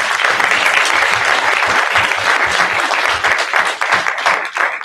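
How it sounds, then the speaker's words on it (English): Loud, close audience applause at a Women in Tech Africa gathering in Nairobi, a dense, continuous roar of many clapping hands lasting the whole stretch. "before we go, so we give these guys a clap"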